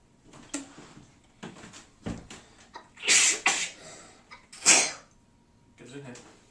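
A person sneezes sharply during a kitchen vinegar volcano experiment. Two loud bursts stand out among clattering and scattered voices.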